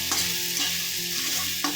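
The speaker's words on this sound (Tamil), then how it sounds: "இந்த கேரட் உருளைக்கிழங்கு பொடியாக நறுக்கியிருக்கோம் இல்லையா, இதையும் இதோட ஆட் பண்ணிவிட்டு இதையும் நல்லா ஒரு வதக்குவோங்க." Chopped carrot and potato being sautéed in a pan for a tiffin dish, a continuous sizzle with scraping stir strokes recurring through the short stretch, close and steady, no voices.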